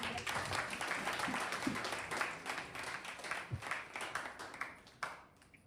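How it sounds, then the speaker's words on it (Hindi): A congregation claps at a Hindi church service, with steady, fairly dense applause continuing for several seconds before tapering off, heard somewhat distantly in the room. "एक बार फिर से ताली बजा के"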